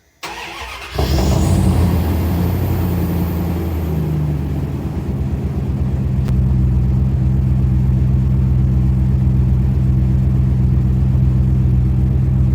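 A car engine cold-starts with a burst of cranking, then settles into a loud, deep rumbling idle that holds steady and strong close by, with no one speaking over it.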